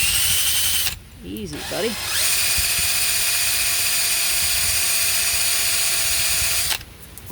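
A power tool with a flap-wheel-style sanding attachment grinds and sands a damaged Redline wheel rim, whining loudly and steadily for most of the stretch after a short drop near the start, with a brief spoken remark in that gap.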